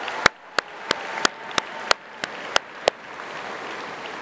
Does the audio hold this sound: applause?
yes